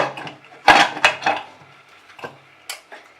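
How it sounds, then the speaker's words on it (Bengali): An aluminium cake bowl set down into a bed of salt inside a pressure cooker, giving a few sharp metallic clinks and scrapes close up, with quieter taps and shuffling between them. "এবার আমি এটা কেকের বাটিটাকে, অ্যালুমিনিয়ামের বাটিটাকে এর মধ্যে একটু গেঁথে বসিয়ে দিলাম নুনটার মধ্যে"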